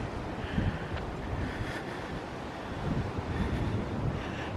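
Wind buffets the microphone on an exposed hillside trail in a fire-scarred area, a steady, dense rumbling roar with gusty swells and no talk.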